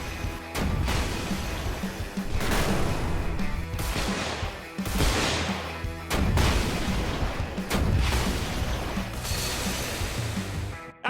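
Heavy smashing impacts ring out as two axes break objects in a video game, loud crashes and booms repeating every second or two over a dense, continuous clatter of debris.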